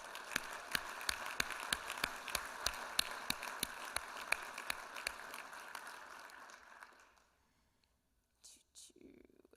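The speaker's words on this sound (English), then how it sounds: "I want to give John a strong round of applause." Applause for a panelist at a plenary panel session on building a blue-green movement: steady, dense clapping from a large audience that fades out over several seconds, followed by near silence and brief low murmuring.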